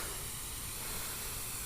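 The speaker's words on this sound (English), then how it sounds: "spray the car down with water" A hose sprays water onto a car at a car wash, a steady dense hiss that fills the whole moment at close range, with no talk.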